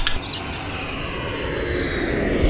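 Airplane engine roaring steadily, a broad continuous rumble and whoosh holding at an even loud level for a couple of seconds.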